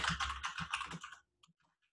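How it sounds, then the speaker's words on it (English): A game title being typed on a computer keyboard, a quick, close burst of keystrokes for about a second, then near silence with a couple of faint taps. "to add a game, you just click the link and then you type in the, the name of the title and the developer"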